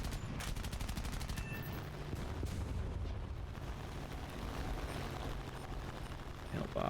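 Gunfire in War Thunder while targeting pillboxes, artillery and AA, rapid machine-gun bursts and heavy booming shots over a dense rumbling battle bed, loud and continuous with some talk.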